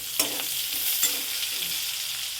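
A large finely chopped onion frying in a pan with whole garam masala, giving a steady hissing sizzle close by and a few light scrapes of stirring.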